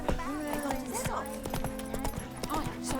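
Horse hooves clip-clop at a steady trot in The Witcher 3: Wild Hunt, a regular rhythm of sharp hoof strikes running throughout beneath continuous talk.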